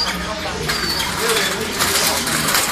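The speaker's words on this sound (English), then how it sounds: "the sound of the birds. Absolutely amazing." A dense chorus of chirping and cooing caged birds at the Hong Kong bird market fills a busy space, loud and close, with murmuring voices and general crowd noise mixed in.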